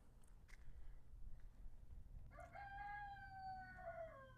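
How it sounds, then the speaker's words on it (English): A rooster crows loud and close in a home garden at the end of a humid summer season, one long drawn-out call rising over steady low background noise. "My rooster keeps crowing."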